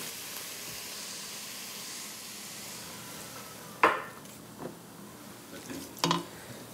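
Mushroom broth poured over sweated leeks in a hot pan, giving a soft steady sizzle and hiss with a few sharper splashing bursts near the end, no voices.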